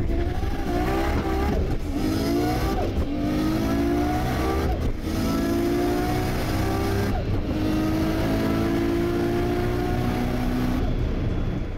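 A turbocharged Nissan Skyline GT-R R32 accelerates hard, its engine note climbing steadily through several gear changes, loud and continuous throughout.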